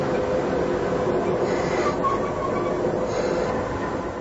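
A Soviet-designed diesel locomotive hauls the British military train at the inner German border. Its steady, loud rumble runs without a break for the whole stretch, and no one speaks.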